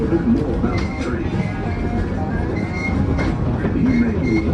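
Tweetsie Railroad tourist train rolling along its tracks, a steady rumble with clickety-clack from the wheels and faint squeals, heard from onboard at close range with a voice speaking over it.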